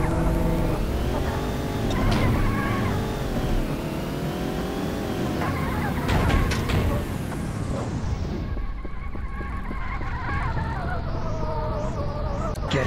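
Car engine revving and accelerating in the video game Payback 2, a loud continuous drone with rising and falling pitch sweeps and a brief skid, heard alone without talk.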